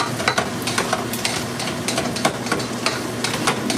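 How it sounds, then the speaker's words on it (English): Something being stirred and sizzling in a hot pan just before garlic is added for baked pasta with red sauce, a loud, steady, close frying hiss broken by frequent scraping and clicking of the utensil. "we're going to hit them with the garlic in just a moment here."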